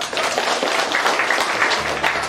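Church congregation clapping, a sustained dense wash of applause from a crowd, loud and continuous for a couple of seconds.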